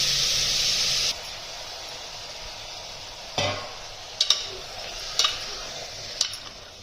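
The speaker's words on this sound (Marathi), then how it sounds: "परतून घ्यायचं" Meat sizzles as it is sautéed with turmeric, coriander powder and salt for a chicken curry: a loud hiss at first, then quieter frying broken by several sharp scrapes and clanks of stirring in the pan.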